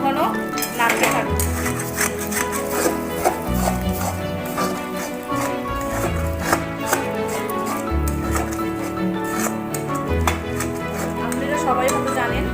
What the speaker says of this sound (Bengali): এবার ভালো করে ঘন ঘন নাড়তে থাকবো।